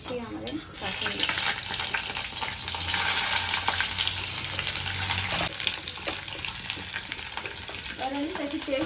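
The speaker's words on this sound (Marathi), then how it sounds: "आणि थोडीशी ही मिरची आपल्याला यामध्ये फ्राय करून घ्यायची आहे." Green chillies fry in hot oil with mustard seeds and cumin, making a loud, continuous, close-up sizzle and crackle that runs without a break through the whole stretch.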